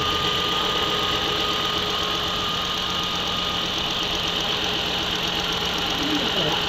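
A Ford Explorer 3.5 engine with milky, contaminated oil idles steadily with a constant low rumble and faint mechanical ticking, running without a break throughout.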